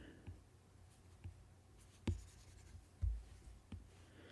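A stylus with the Procreate pencil brush draws line work on a tablet screen, giving soft, faint taps and short strokes spaced irregularly across a quiet background.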